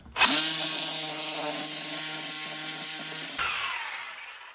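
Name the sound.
Sawzall reciprocating saw cutting through deer skull bone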